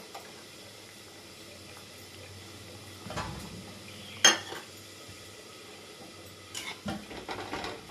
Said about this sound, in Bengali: এটা নাড়িয়ে নেবো অল্প, দিয়ে আবার ঢেকে দেবো, বাকিটা সেদ্ধ হোক।